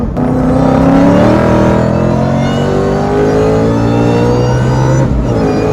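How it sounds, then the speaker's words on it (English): A boosted car running race gas accelerates hard through third gear, its engine note climbing steadily in pitch as loud, close, continuous roaring fills the whole stretch with no talk. "Do another third gear hit here."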